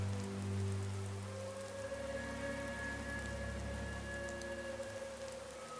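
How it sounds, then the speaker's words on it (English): Steady rain falls on surfaces in the video game Fallout 4, a dense continuous patter of drops with a low ambient hum underneath, even and close throughout with no voices. "Damn rain is soaking right through me clothes."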